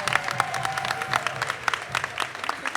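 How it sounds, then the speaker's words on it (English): Applause from a small crowd at a football commitment announcement, scattered claps with a few louder bursts, with some background voices mixed in. "So I want to clap it up for them."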